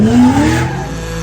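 A 1400 hp electric all-wheel-drive RTR Ford Mustang Mach-E launching into a drift run at SEMA 2021, giving a loud, rising electric whine that surges briefly and then settles.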